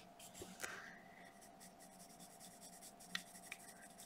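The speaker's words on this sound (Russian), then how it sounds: "Но сейчас не очень прям сильно я нажимаю на карандаш." Marker or pencil strokes rub across paper while sketching a strawberry, soft scratchy scribbling with a few sharper taps, quiet and close.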